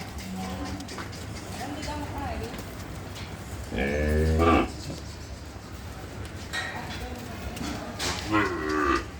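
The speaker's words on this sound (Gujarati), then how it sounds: "જ્યાં તે ગૌશાળો છે. જોઈ શકો છો બહુ સારી સારી વાછડી છે." Cattle in an ashram cowshed with calves, several deep lowing moos at close range over a steady background of shed noise and faint voices.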